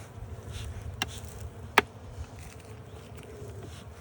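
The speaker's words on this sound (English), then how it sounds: "You got bees all over you" Honey bees buzz softly around an opened hive during an early spring inspection outdoors, a low steady drone broken by two sharp clicks.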